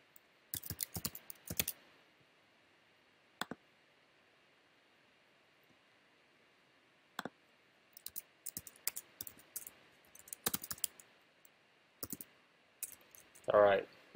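Computer keyboard typing in scattered bursts of quick clicks with pauses between, close and fairly quiet against a faint background hiss, during an online search.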